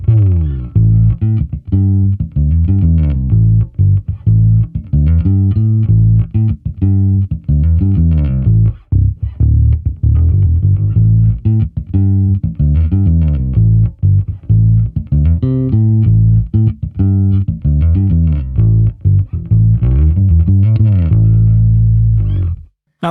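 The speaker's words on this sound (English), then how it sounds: "Let's listen to the sound with the amp set flat, other than with the cap simulation being engaged" Passive bass guitar played through a Microtubes 900 v2 amp set flat with cab simulation engaged, a continuous riff of punchy, closely spaced notes with deep, full low end, loud and steady, no talking.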